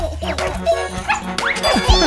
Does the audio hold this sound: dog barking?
yes